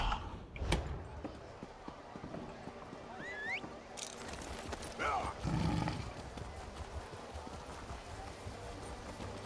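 Horse hooves clip-clop in The Elder Scrolls video game, faint, with a brief whinny and town ambience around them.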